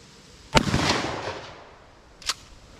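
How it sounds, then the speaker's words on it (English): A shotgun fires a single slug outdoors, a sharp loud crack that echoes and rolls away over a second, followed by a fainter sharp report shortly after. "First time ever shooting a slug through this gun."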